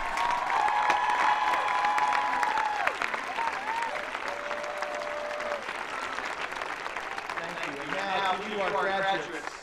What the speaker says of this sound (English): Graduates, please stand and join me in a round of applause for your families and your friends